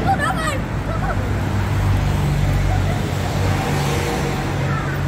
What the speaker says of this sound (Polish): No fajne są te turystyczne samochodziki.